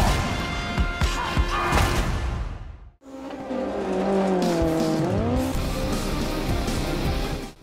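Rally car from the Dirt Rally racing game, engine revving loudly with tire squeal and skidding on loose surface, a brief cut near three seconds, then rising and falling engine pitch as the car accelerates and shifts.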